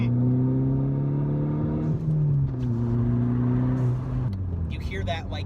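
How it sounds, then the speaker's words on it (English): A modded VW GTI MKVI drives along with steady engine drone and exhaust tone, shifting pitch as the revs drop and rise again, with an odd intake-like whoosh near the end. "You hear that, like, air suction in the back? That weirdness to the exhaust?"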